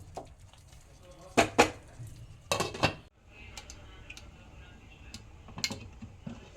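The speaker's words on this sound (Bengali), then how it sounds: "চুটকি পরিমাণে হলুদ দিয়ে দিচ্ছি, একটু নাড়াচাড়া করে দিলাম" A spoon clatters and scrapes inside a pot as chutney is stirred with a pinch of turmeric. The sharp metallic knocks come in a few brief clusters, separated by a quiet background hum.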